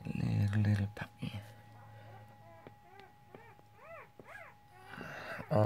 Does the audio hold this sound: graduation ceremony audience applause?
no